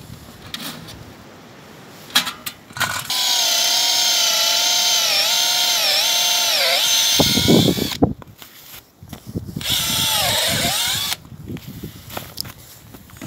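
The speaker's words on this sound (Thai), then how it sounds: "การ เจาะ ต้นเมเปิลเพื่อจะเฮ็ดน้ำตาลนะคะเฮ็ดน้ำตาลเมเปิลเนาะ" A power drill bores into a maple tree trunk to tap sap for maple sugar in snowy Quebec woods, running loud and steady in two long whining bursts with short pauses and faint handling noise between.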